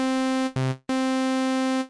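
A bright, buzzy sawtooth synth tone from FL Studio Mobile plays as two sustained mono notes: a long note, a short lower one, then another long note, loud and clean with no voices.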